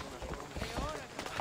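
Horse hooves gallop in rapid clip-clop in the video game Assassin's Creed Odyssey, mixed with game sounds beneath someone talking.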